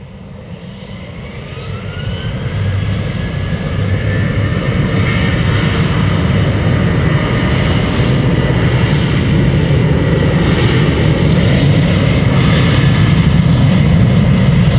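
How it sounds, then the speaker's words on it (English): KLM Boeing 737-800 jet, thirteen years old, lining up and departing Amsterdam Schiphol, a steady broad engine roar that swells over the first few seconds and then holds loud and close, with no voices. "KLM flight 1257 going to Santa Town, Rovaniemi. Lining up here."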